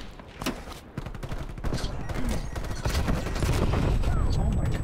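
Rapid bursts of gunfire from a Call of Duty Black Ops Cold War team deathmatch, with dense close shots and thumps layered over a busy game mix throughout.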